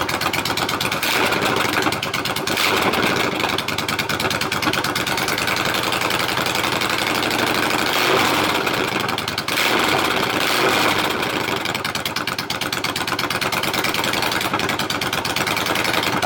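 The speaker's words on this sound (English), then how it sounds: "I'll give it some revs." A Yamaha V Star 1100 bobber motorcycle engine runs loud and close, its rough, throbbing V-twin idle swelling into several revs and settling back, steady and continuous with no talk.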